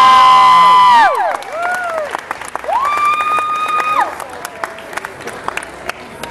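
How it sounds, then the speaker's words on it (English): After a sustained sung or musical note cuts off, an audience applauds and cheers for a young girl's song cover, with scattered claps, whoops and voices fading into lighter, sporadic clapping. "Nice round of applause"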